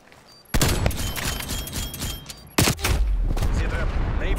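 Rapid automatic gunfire from a sentry gun in Call of Duty Cold War, loud bursts of rapid shots starting after a short lull, with a second intense barrage midway, noisy and close.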